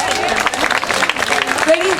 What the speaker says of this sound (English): So give a big round of applause for these ladies again.